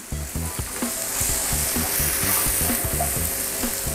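Onions and mushrooms frying in a pan, a steady close sizzle with scattered crackles and soft stirring scrapes throughout, no voices.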